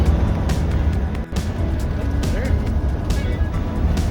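An RV cruising down the highway at about 70 mph gives a steady, close road and engine drone with constant rumble, while a person talks over it.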